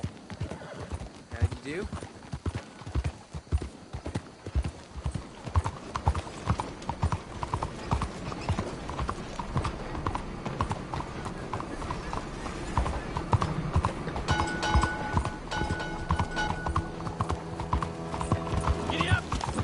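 A horse in Red Dead Redemption clip-clops along in a steady hoof rhythm and gives a neigh, with a voice speaking over it and game music entering toward the end.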